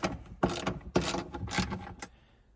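A ratchet wrench undoing a bolt on the gated shifter of a Ferrari F430 gives several quick, close ratcheting clicks in short bursts, then stops.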